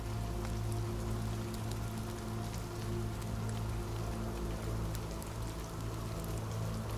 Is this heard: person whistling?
no